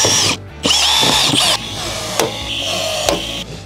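A power drill bores out the four rivets holding a ramp, with loud whining bursts broken by short pauses and sharp bites as each rivet gives way.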